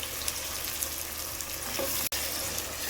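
Finely sliced medium onions stir-fry in hot oil for a biryani, a dense, continuous close-up sizzle with a faint stirring clatter and one sudden momentary drop to silence.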